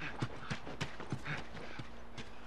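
Horses in The Last of Us on PS3, at a ranch house, clip-clop along in a steady rhythm of hoofbeats about three per second, moderately close and fairly soft, with no talk.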